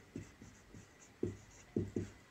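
Pen or chalk strokes scratch out a physics formula in short, separate bursts: several quick taps and scrapes spaced irregularly, close and quiet, with no talking.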